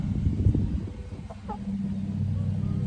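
Chickens cluck and murmur close by while they feed on mixed oats, with low scratching and shuffling noises and a brief higher call partway through.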